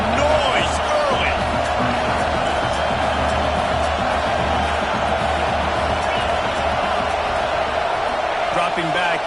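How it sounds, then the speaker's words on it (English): Football stadium crowd at a Wisconsin vs Iowa game, a steady loud roar of cheering and noise filling the whole stretch, with commentary-like voices faintly mixed in. "This crowd bringing the energy and noise early."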